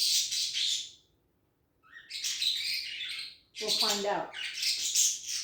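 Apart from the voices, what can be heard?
pet parakeet chirping in the background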